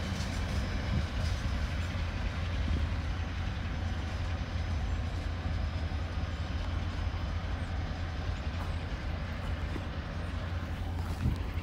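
A freight train hauling coal and scrap cars climbs a hill near Mount Zion, giving a steady, low, rumbling drone that holds evenly throughout, with no voices.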